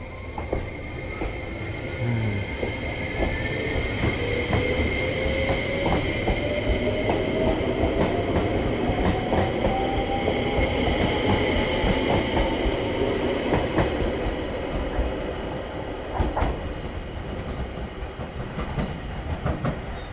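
A train pulls away from a station in Japan, with loud rumbling rolling stock, rhythmic clickety-clack over rail joints and squealing wheels across a continuous twenty-second passage.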